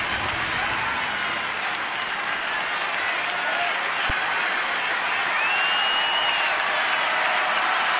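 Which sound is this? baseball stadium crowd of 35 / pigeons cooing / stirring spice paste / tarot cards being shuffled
baseball stadium crowd of 35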